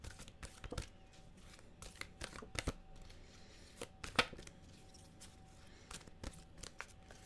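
Tarot cards shuffled by hand at a reading table, a sequence of quiet, sharp riffling snaps and taps in irregular bursts, close and faint with no talking.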